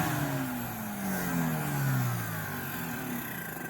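A Ridgid 5 HP shop vac motor whines steadily with a piece of sandpaper stuck inside, its pitch sliding and wavering continuously as it runs loud and close, with no voices.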